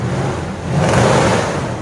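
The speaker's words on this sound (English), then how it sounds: "2017 Nissan Titan SL 4x4. This is what it sounds like before." Stock exhaust of a 2017 Nissan Titan SL 4x4 pickup with a 5.6L V8, revving close by with a steady low rumble that swells briefly in the middle, with no voices.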